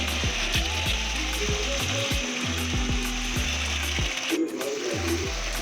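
Chopped, peeled tomatoes sizzle steadily in a pan with garlic-ginger paste for an aloo baingan sabzi, a loud continuous fry punctuated by repeated low knocks and scrapes of a spoon against the pan, with no talking.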